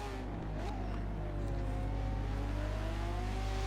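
A hypercar engine in a racing video game at the Catalunya circuit, accelerating hard, its high-revving whine climbing steadily in pitch over a constant low roar, loud and continuous.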